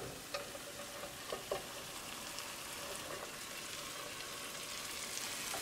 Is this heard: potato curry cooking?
yes